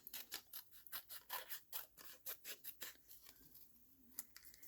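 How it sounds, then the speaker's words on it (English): Pair of scissors snipping a wavy line across the top of a paper craft bag, a steady run of quick, close crisp cuts with brief pauses, no talking. "I am just going to cut a wavy line"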